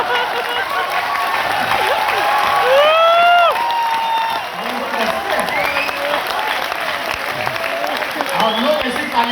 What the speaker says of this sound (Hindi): और लोग ऐसी ताली बजाते हैं।